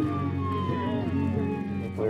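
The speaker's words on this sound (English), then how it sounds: "Even with the music blasting, we were still able to sense the siren." A wailing emergency vehicle siren sweeping in pitch, loud and close, layered over a deep low rumbling tone from a Rumbler low-frequency siren beneath it.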